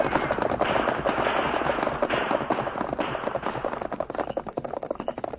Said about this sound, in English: There was no need to return their fire, Tonto.